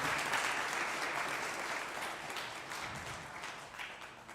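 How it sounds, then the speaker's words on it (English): An audience at a robotics competition awards ceremony applauds, a continuous, soft, distant-sounding wash of clapping that slowly fades over four seconds. "I think a round of applause, ladies and gentlemen."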